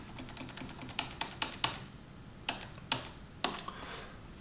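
Computer keyboard keys clack in short separate presses and small clusters as shortcut combinations are struck, close and crisp against a quiet room with no speech.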